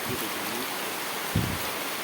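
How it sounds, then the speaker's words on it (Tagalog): A river flowing steadily nearby, a dense continuous rush of water with a couple of brief low knocks, no talking. "So, andito na tayo sa ilog"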